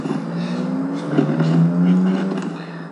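A loud car with no muffler drives past outside, its rough engine drone swelling to a peak midway and then fading slightly as it moves off.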